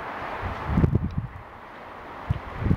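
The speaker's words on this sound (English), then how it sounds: "It's really windy right now, so just absolutely windy and cold" Strong, cold winter wind during December snow flurries buffets the microphone outdoors in uneven rumbling gusts, rising and falling over a constant airy hiss.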